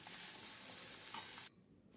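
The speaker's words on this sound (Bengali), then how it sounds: "তাহলে রসুন আর পেঁয়াজের সাথে আদাটাও খুব ভালো করে আমি ভেজে নিচ্ছি" Onion, garlic and ginger frying in a pan for soya chunk pulao, a loud steady broadband sizzle with stirring that cuts off abruptly near the end, leaving quieter hiss.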